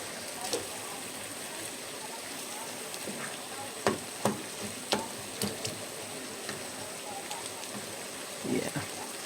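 Homemade spaghetti ingredients sizzle in a pan in a Puerto Morelos kitchen, a low steady frying hiss broken by a series of sharp scraping clicks from stirring, some bunched together, some spread apart.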